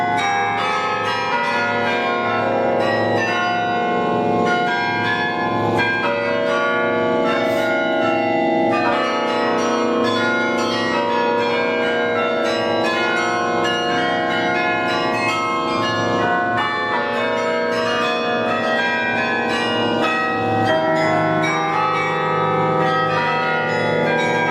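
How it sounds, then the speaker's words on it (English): Several bells inside the Bruges Belfry ring together in a loud, sustained peal, their overlapping tones chiming continuously with no voices. "that's what's making all those bells chime"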